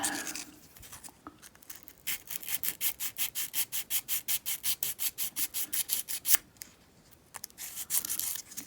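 Old Ranger knife springs are scrubbed of rust with a quick run of rhythmic back-and-forth rasping strokes, close and fairly loud. A few scattered scrapes come before the run and a short burst follows a pause.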